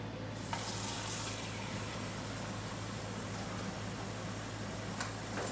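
Water runs steadily from a kitchen tap while beef stroganoff is being cooked, a continuous close hiss with no talk over it.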